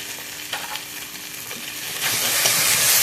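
Prawns and vegetables frying in a pan while being stirred, a close crackling sizzle with scraping strokes that grows louder and hissier toward the end.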